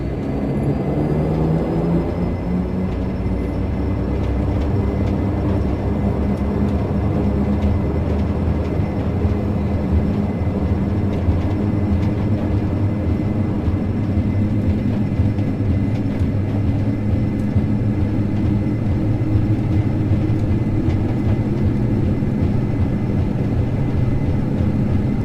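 Dash-8 turboprop takeoff roll in the Prepar3D flight simulator: a steady, loud engine drone spools up and holds with rising tone and continuous rumble for the whole stretch, no voices.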